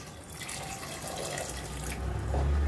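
Water is poured from a glass into a pot of mutton pieces being cooked, a steady splashing pour that grows louder and fuller toward the end, with no talking.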